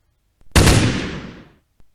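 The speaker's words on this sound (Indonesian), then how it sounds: "selanjutnya kita tambahkan suara tembakan ya" One loud gunshot sound effect with a sharp attack and a decaying tail of about a second, played alone and close, followed by a faint click.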